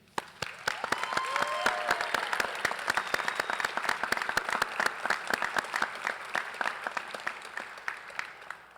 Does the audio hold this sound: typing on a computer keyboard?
no